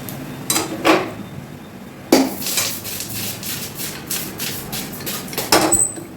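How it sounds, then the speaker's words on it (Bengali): Fried pulao rice being poured and scraped from a pan into a pressure cooker, with several sharp metallic clanks and scrapes standing out against a quiet kitchen, close by and without talk. "এবার এটা আমি ঢেলে দেবো কুকারে"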